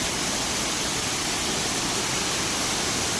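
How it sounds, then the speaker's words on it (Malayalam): Steady, loud rushing roar of the Idinjar Mankayam waterfall in Kerala, dense and unbroken, with no voices. "ആ വെള്ളം വീഴുന്നതിൻ്റെ സൗണ്ട് തന്നെ"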